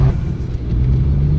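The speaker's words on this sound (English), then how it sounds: "that was an acceleration run and then a more peaceful run from me, I guess, in the Ford GT" Ford GT sports car engine heard from the cabin under acceleration, a loud close low rumble with a strong steady throb and no voices.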